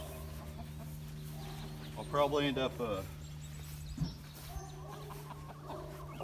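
Chickens clucking in and around a backyard coop, soft scattered clucks under a man's nearby speech, with a brief louder cluck partway through.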